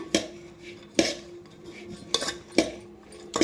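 A spoon scrapes and clinks against a bowl while chili powder, salt and grated coconut are mixed together, giving four or five sharp metallic strikes at a steady pace with a brief scrape after each.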